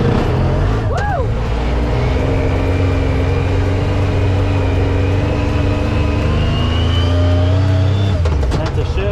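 A Yamaha YXZ1000R side-by-side engine runs loud and close through its sequential gears, its rising engine tone climbing with each shift over constant rumble and wind, with a voice shouting briefly near the start.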